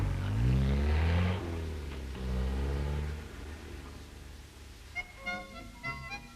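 Triumph team cars on a 1964 French road rally pull away with engines revving loudly up through the gears, then fading into the distance as lighter clatter follows.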